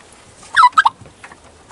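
A turkey on a farm gobbles nearby in a short, loud burst of rapid warbling calls, then briefly again, with quiet background between.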